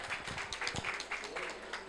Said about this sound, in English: just a big round of applause for our panel,